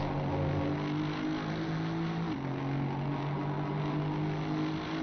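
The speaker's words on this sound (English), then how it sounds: "So the Mercedes doing well on British soil. And the engines do sound good." Mercedes race car engines drone steadily at Brands Hatch in a racing video game, a continuous loud engine tone with a brief dip and shift midway as the car changes gear.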